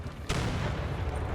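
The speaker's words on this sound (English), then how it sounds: "And they've started bombarding us." Enemy cannon artillery fire in a river-crossing battle in a strategy war game with the Netherlands faction, a sharp boom bursting in after a quiet moment and followed by a dense, sustained rumble of gunfire.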